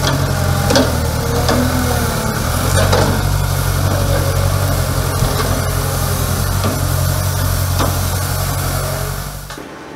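Sawmill machinery runs at a mill in Molo sub-county as a continuous, loud, steady engine drone with a low hum. Faint knocks and clatter are spread through it, and it cuts off at the very end.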